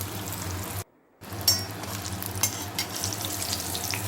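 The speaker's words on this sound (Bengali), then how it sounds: "একটু লাল লাল করে ভাজবো।" Ash gourd slices fry in a pan for a vegetarian stuffed dish, a steady soft sizzle with a short gap near the start, then clicks and light scraping over the continuous frying hiss.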